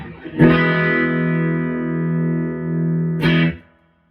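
A sustained chord from an Esquire-style electric guitar rings out through a Fender 5E3 Deluxe tube amp with warm tone and a wash of spring reverb, then a second strummed chord near the end fades away.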